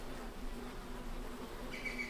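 Bees buzzing around a hive set up under a tent, a steady, close insect drone that holds throughout, with a brief higher whine as one flies past near the end.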